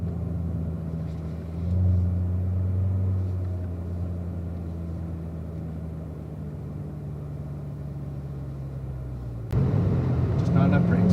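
A Chevrolet Corvette's engine drones steadily on a race track at a driving school, the tone holding and rising slightly as it accelerates, with a louder burst of engine noise near the end and an instructor speaking over it.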